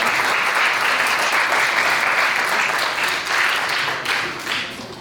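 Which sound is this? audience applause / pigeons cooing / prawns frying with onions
audience applause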